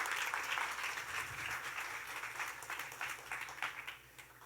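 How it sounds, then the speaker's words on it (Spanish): A church congregation claps in applause during a sermon, a faint, steady patter of many hands with slight surges, sounding distant in the room. "Pero dale un aplauso al Señor."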